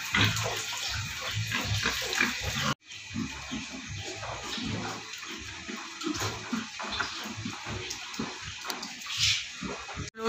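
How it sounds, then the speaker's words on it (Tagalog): Water gushes steadily and loudly into a drum outdoors, with a continuous splashing rush and a brief break partway through. There is no talking. "Maglalagay po muna tayo ng tubig sa drum."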